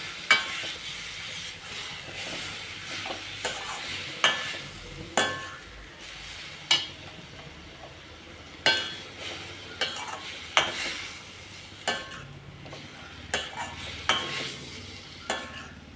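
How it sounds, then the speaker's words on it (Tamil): Ground masala stirred and sautéed in a pan while making Tamil-style crab poriyal: soft sizzling under regular scraping strokes of a spoon against the pan, repeating every second or two, close and fairly quiet. "இந்த மசாலாயோட பச்சை வாசனை போகிறது வரைக்கும் ஒரு 5 நிமிஷம் வதக்கிடலாம்."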